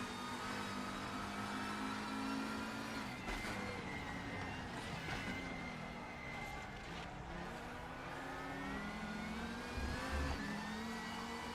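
A front-wheel-drive touring race car's engine drones and revs steadily in the RaceRoom racing game, a continuous mid-pitched whine with shifting throttle and gear changes, faint and unbroken.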